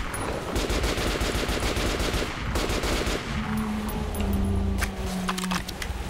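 Rapid automatic gunfire in the video game Metro Last Light Redux rattles in dense bursts, then gives way to scattered single shots and clicks, moderately loud and without talk.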